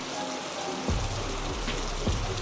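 Steady night rain in a forest patters and hisses on surfaces, with a few low thumps beneath the constant wash; no one speaks.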